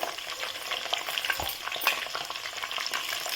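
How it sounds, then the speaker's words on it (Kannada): Green chillies and mint leaves fry in hot oil for a mint-tomato chutney, a dense close crackle and spatter with small stirring knocks, no voices. "ಸ್ವಲ್ಪ ಎಣ್ಣೆ ಕಾದ್ಮೇಲೆ ಹಸಿಮೆಣಸಿನ್ಕಾಯಿ ಹಾಕೋಬೇಕು ಈಗ ಪುದೀನ ಹಾಕೋಬೇಕು"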